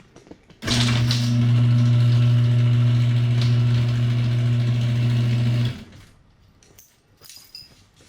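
A 1984 Toyota Celica RA64 engine cranks, catches and runs at a steady, loud idle for about five seconds, then cuts off, leaving faint background noise.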